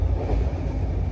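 Passenger train on the Visakhapatnam to Varanasi route rolling along, a steady loud rumble of wheels and carriage noise with faint rhythmic clatter, no voices.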